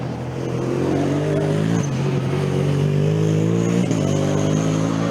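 A Formula Student race car at an endurance event in Germany, driven by the Padova team, screams loudly and steadily at high revs as it runs close by on track, its engine note briefly dipping with gear changes.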